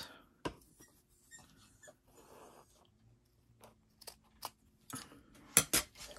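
Scissors cutting craft material, several quiet snips and crisp cuts spaced irregularly over soft handling rustle, close and faint.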